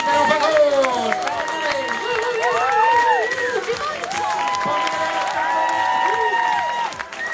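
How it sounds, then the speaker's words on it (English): Crowd noise at an outdoor sheep show with a Norfolk Horn ram on stage: a lively mix of voices, shouts and children calling over scattered clapping that continues for several seconds. "let's have a big clap for our first sheep"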